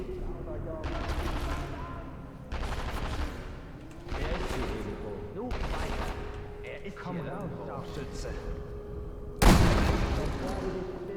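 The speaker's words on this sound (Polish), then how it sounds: "Widzieliście skąd padły strzały?" Repeated bursts of gunfire crack out over a steady game hum in Sniper Elite V2, with a louder blast near the end; people talk through much of it.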